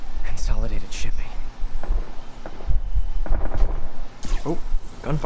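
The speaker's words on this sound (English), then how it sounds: "Oh, gunfire." Gunfire from the Spider-Man PS4 video game pops in rapid bursts amid dense game action and effects, with voices talking over much of it.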